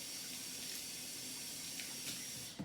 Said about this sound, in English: I'm gonna rinse my hands off a little bit.